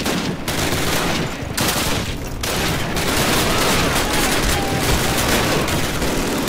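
An MG42 machine gun in a Call of Duty Normandy landing battle hammers out a loud, sustained stream of fire with brief breaks, thick with rumbling battlefield noise.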